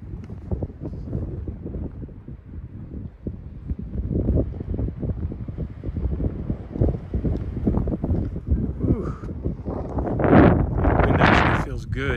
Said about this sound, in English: Wind's blowing, so it might be loud.